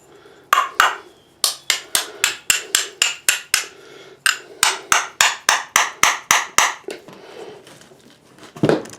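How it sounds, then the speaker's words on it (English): A hammer striking a rusted bolt on the gas tank of an Earthquake chipper shredder, two runs of rapid sharp metallic blows, each ringing briefly, close and loud with short pauses between runs. "Banging on with the hammer did help."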